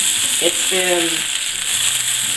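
Sausage frying in a hot pan gives a steady, close sizzling hiss throughout, with a brief murmur like a voice partway through.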